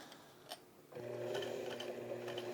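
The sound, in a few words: sewing machine sewing backpack strap webbing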